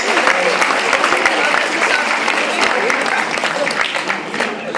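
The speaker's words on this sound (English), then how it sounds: "give them a round of applause" A school leavers' assembly crowd claps for the prefects: thick, sustained applause from many hands, loud and even throughout, with faint voices mixed underneath.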